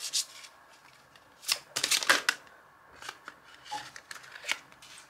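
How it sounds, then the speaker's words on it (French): Oracle cards are shuffled and drawn from a deck at close range. Several quick papery riffles and slides come in short clusters, separated by brief quiet gaps. "je vais vous sortir une petite carte là-dedans"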